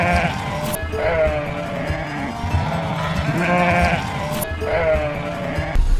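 Flock of sheep bleating in an animated biblical film, several overlapping wavering calls close by in a continuous chorus.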